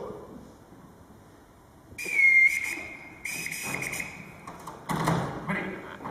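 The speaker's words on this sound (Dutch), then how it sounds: "Er is hen geleerd om alleen te reageren op een eigen fluitsignaal." A shrill whistle blows in sharp bursts, the first one long and loud, with scraping and bumping noises between the blasts.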